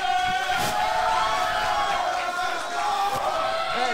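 A stand-up comedy audience cheers and shouts loudly and continuously, a dense crowd roar with a sustained tonal hum running underneath.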